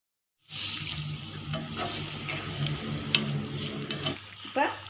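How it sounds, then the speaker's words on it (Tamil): Boiled mutton and its cooking water are poured into a frying pan of sautéed spices with turmeric, sizzling loudly, then stirred with scraping and clinking, close and alone. "நம்ம வேக வச்ச மட்டனையும் ஊற்றிக்கிடலாம் அந்த தண்ணியோடைய ஊற்றிக்கலாம்"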